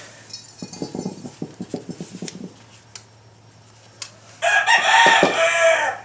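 A rooster crows loudly near the end, a long bright call following a stretch of soft clucking and scattered clinks.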